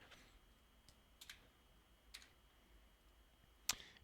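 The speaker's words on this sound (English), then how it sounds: "I can just hit delete, like the smaller delete key above the arrows on the keyboard" A delete key pressed on a computer keyboard: a few faint, sharp plastic clicks spaced irregularly over a quiet background.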